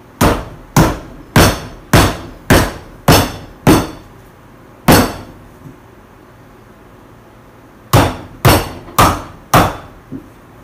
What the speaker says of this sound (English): The reason I like to use a rubber hammer with the cleaver